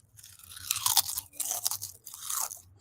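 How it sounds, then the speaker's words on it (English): Plain Lay's potato chips crunch loudly close to the microphone, several sharp, crisp bites and chews in an uneven rhythm with brief pauses between, and no voices are heard. "I'm smacking on some Lay's chips, y'all."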